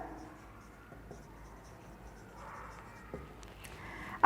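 Marker or chalk strokes on a board while accounting entries are written, faint scratchy squeaks and taps in short bursts, with a louder knock at the very end.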